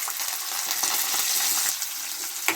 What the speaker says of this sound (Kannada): ಇವಾಗ ಈರುಳ್ಳಿನ ಚೆನ್ನಾಗಿ ಫ್ರೈ ಮಾಡ್ಕೊಬೇಕು ತುಂಬ ಜಾಸ್ತಿ ಫ್ರೈ ಮಾಡಬಾರ್ದು ಮೀಡಿಯಮ್ಮಾಗಿ ಫ್ರೈ ಮಾಡ್ಕೊಬೇಕು